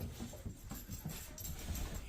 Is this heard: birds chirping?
no